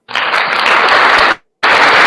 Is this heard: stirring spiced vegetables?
no